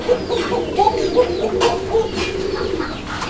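Fancy pigeons calling from cages at a bird seller's, a pair cooing and clucking in soft repeated bursts close by, with a steady murmur of voices and room noise around them.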